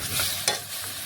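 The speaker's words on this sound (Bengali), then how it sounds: "এটাও ভালোভাবে মিশিয়ে নিচ্ছি ঝিঙের সাথে" Ridge gourd tossed with red chili powder in a hot pan gives a brief close scrape over a soft, steady sizzle.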